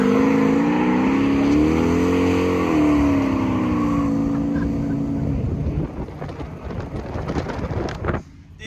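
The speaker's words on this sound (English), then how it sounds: "He just loves burnouts." At Byron Dragway a drag racing car does a burnout, its engine holding a loud rising and falling tonal drone for about five seconds before breaking into rough revving and crackle that cuts off near the end.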